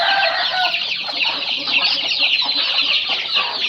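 Several chickens cluck and chatter continuously close by, a busy overlapping flock with no talking.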